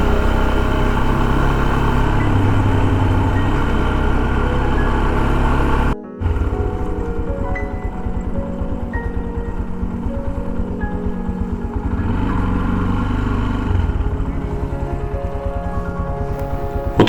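A small Chinese 250cc motorcycle runs steadily through golden autumn countryside near Baryshivka, Ukraine, its engine a continuous loud drone with a brief dropout partway through, then droning on with no talk.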